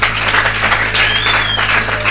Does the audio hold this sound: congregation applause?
yes